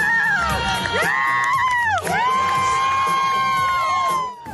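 A crowd of friends and family cheers and whoops loudly and continuously at an amateur cruiserweight boxing title fight, with shrill voices rising and falling, a brief dip midway, and the roar fading at the end.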